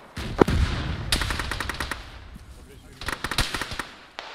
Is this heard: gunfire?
yes